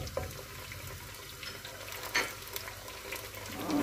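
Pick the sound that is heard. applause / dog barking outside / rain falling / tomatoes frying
tomatoes frying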